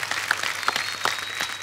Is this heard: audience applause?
yes